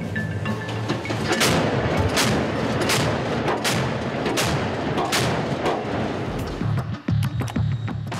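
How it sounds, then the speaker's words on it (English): Naval ship's cannon firing in a rapid series of sharp, loud blasts roughly every second, each booming report overlapping a continuous rumbling roar, with a brief pause near the end before a few final shots. "We see the cannon in action in this footage supplied by the Navy."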